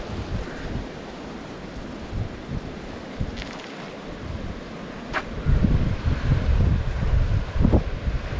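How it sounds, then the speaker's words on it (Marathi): Sea waves roll against the coast beside the Harihareshwar temple, a steady broadband wash mixed with wind buffeting the microphone, swelling louder in the final few seconds with no talking. "त्याच्याच बाजूला लागून मित्रांनो हा बघा समुद्र."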